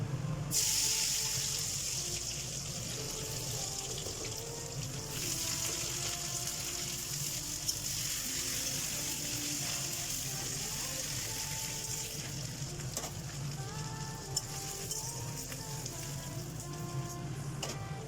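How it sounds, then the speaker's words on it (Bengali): Ginger and garlic sizzling in hot oil in a home kitchen, a steady crackling hiss like light rain that keeps on throughout with small pops, with a voice talking now and then. "আদা রসুনটা বেশ সুন্দর ভাজা হয়ে গেছে"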